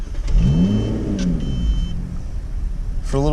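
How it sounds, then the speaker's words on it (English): A 2018 Lotus Evora engine fires up nearby with a loud starter-driven catch and a rising rev sweep, then drops into a rumbling idle, with a brief chirp near the end. "So to start this thing, key in the ignition, crank it, foot on the brake, engine start button."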